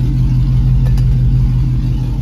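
LS-swapped OBS truck with a Carven exhaust and dual tips, heard as a loud, steady low engine drone close by, nearly unchanged throughout, with two faint brief clicks partway through.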